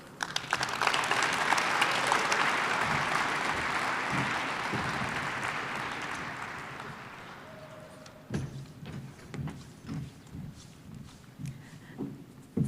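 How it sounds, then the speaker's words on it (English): An audience at a city Black History program applauds the mayor after her speech, a warm swell of clapping that tapers off after about seven seconds, leaving scattered thumps and footsteps. "Another round of applause,"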